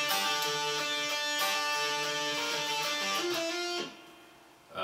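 Electric guitar plays a short lick for the pre-chorus of a song, a quick run of picked notes ringing close before cutting off near the end.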